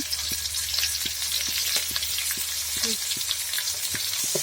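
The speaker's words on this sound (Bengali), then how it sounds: "ভালো করে ভেজে নেব। এখন দিয়ে দিলাম টমেটো কুচি," Chopped tomato with salt frying in a pan for a mixed vegetable dish, a continuous close sizzle broken by regular spoon taps and stirring knocks, with a brief faint murmur of voice.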